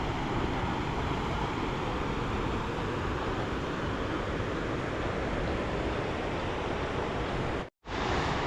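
Water flowing and pouring down Pykara waterfall in Ooty, a steady broadband rush, continuous and fairly even, with a brief cut near the end.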